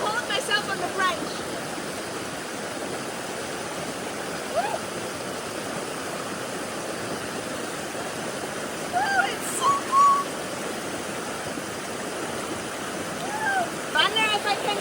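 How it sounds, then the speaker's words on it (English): Strong rushing stream swollen after a thunderstorm in mountain rainforest, a steady broadband roar of fast water close by, with faint splashes and occasional brief voice sounds over it. "The water is very, very strong."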